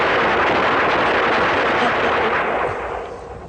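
Loud, dense volley of film gunfire, a sustained crackling barrage of overlapping shots that holds full strength and then fades away toward the end.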